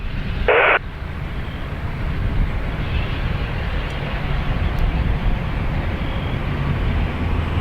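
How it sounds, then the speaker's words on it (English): ATR turboprop airliner at Dublin Airport's north runway, a steady broadband engine roar holding loud and even throughout, with a brief sharp burst near the start and no voices. "Here's the new ATR making its second appearance of the day, HNA."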